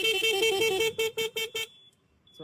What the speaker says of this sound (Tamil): ஹார்ன் வச்சு காமிக்கிறேன் பாருங்க